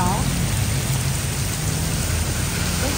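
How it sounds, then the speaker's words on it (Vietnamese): Heavy, steady rain mixed with small hailstones falling in Northern California, a dense, loud hiss and patter that continues without pause for about three seconds. "Năm nay ở Cali mưa quá trời vậy các bạn."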